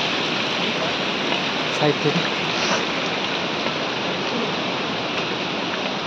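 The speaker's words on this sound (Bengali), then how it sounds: "একটু ঝর্ণার জলগুলো কীভাবে পড়ছে" Near the Kedarnath trail, a waterfall pours in a dense, steady roar that fills the whole clip, with a brief spoken remark near the start and a few faint thuds.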